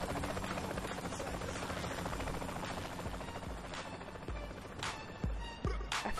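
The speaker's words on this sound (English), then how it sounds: "Get to the helicopter." A steady, loud helicopter rotor drone fills the scene in Saints Row: The Third, with a few sharp thuds like gunfire near the end.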